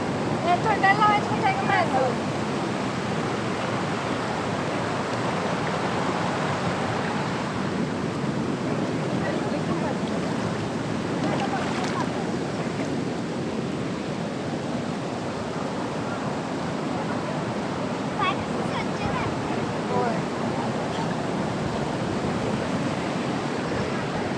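Sherpe-Napne waterfall near Vaibhavwadi, Sindhudurg, pours as a steady, loud broadband rush of flowing water that fills the whole stretch without pause.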